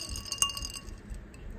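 Ice cubes clink against a glass of cold Coke in a few sharp, close taps, one bright chime standing out, with a soft fizzing hiss behind them.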